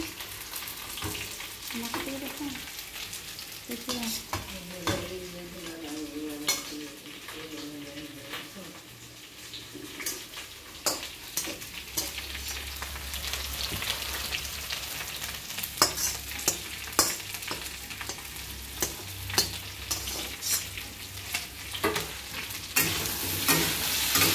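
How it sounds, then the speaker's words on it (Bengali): Potato, eggplant and tomato curry fries in a pan, a continuous sizzle broken by clicking stirs and scrapes, with some brief talking and tonal sounds early on. "এখানে দেখো আমি আলু বেগুন টমেটো দিয়ে একটা সবজি বানাচ্ছি"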